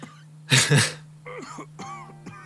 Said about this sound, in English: Ambient coughing noises.